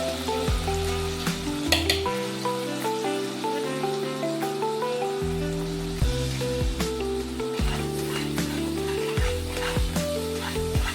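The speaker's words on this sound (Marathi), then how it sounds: "अगदी कमी फ्लेमवर आपल्याला हा ठेचा छान फ्राय करायचा आहे." Maharashtrian laal thecha chili paste fries gently on a low flame, a soft continuous sizzle with occasional stirring, heard under steady background music.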